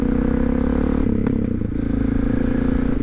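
A 1999 Suzuki DR650 motorcycle pulling away from a stop, its engine a loud, steady low rumble heard close up, with a brief dip and a faint clatter partway through.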